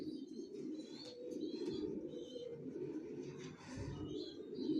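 Racer pigeons coo in a low, continuous murmur, several birds overlapping nearby, with faint chirps and a light rustle now and then.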